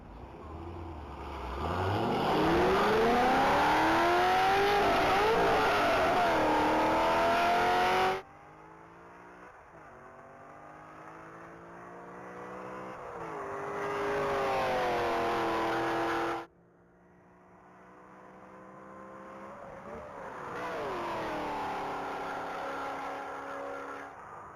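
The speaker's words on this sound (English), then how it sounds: "that Corvette just went through our speed traps at a 172 even" A red 2008 Chevrolet Corvette races through speed traps on a mile-long top-speed track. The engine note climbs loud and rising through repeated gear pulls, then the car fades as it speeds away.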